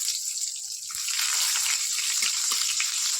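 Garlic paste frying in hot oil with cardamom, cloves and cinnamon gives a loud, dense, steady sizzling hiss up close, with a few soft knocks beneath it.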